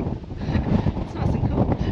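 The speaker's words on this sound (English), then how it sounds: "You have to excuse the wind because it is absolutely howling here" Strong howling wind buffets the microphone in a steady, loud roar on an exposed outdoor lookout near Cooktown, with no clear talk over it.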